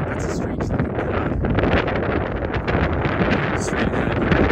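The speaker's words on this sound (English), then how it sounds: "I don't know if I'm audible or not because it's so windy" Strong wind roars into the microphone of a walker on a long-distance trail, making a loud, continuous buffeting rumble that never lets up.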